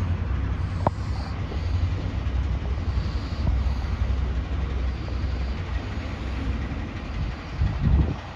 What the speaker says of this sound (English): here comes the 11:33 East Midlands Railway service to Newark Castle via Derby and Nottingham